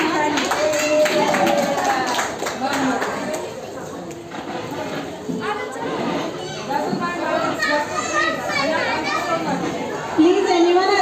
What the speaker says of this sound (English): Congratulations, clap.